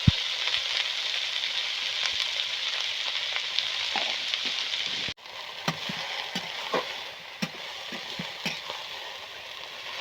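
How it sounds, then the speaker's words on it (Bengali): Fenugreek greens fry in a pan with a steady, moderate sizzle, broken by occasional stirring scrapes and clinks; no voices. "এই যে শাক সুন্দর করে ভাজা হয়ে গেছে"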